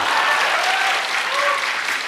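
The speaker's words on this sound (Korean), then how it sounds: "박수로 확실히 치세요, 칠라면." A seminar audience at a Korean church marriage-mission talk applauds steadily, a dense continuous wash of many hands clapping at close range with no voices standing out, holding an even level throughout.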